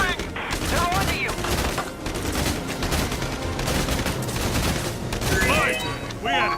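Dense, sustained gunfire from several weapons in Valkyria Chronicles 4 rattles without pause, mixed with battle effects and shouted voices throughout.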